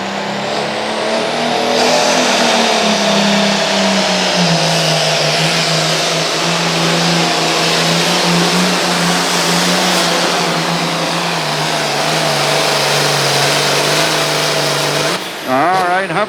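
Pulling tractor with a 466 motor roars loudly and continuously at a county fair pull, pitch climbing and holding at high revs before dropping near the end, a commentator's voice faint beneath.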